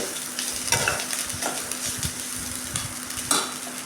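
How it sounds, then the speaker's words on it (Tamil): Cooked rice for a tempered rice lunch dish frying in a pan, a continuous sizzle with repeated scraping strokes of a spatula stirring it up close. "இன்னும் கொஞ்ச நேரம் நம்ம ஃப்ரை பண்ணிக்கலாம் பாருங்கள் நம்ம கிளறி கொடுத்துக்கலாம்"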